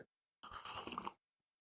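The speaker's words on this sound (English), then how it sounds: "I heard a slurp there on your tea." A single wet slurp of hot tea, close and fairly loud, lasting under a second between stretches of silence.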